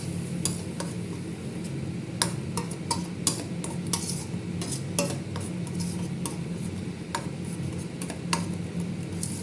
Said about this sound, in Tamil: ஊற்றிட்டு நல்லா இதை கிண்டுவோம்